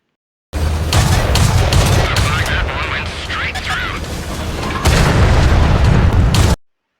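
Tank cannon fire and explosions in World of Tanks, loud and dense, with booming bursts rolling through most of the stretch and a heavy blast near the end, under continuous game noise.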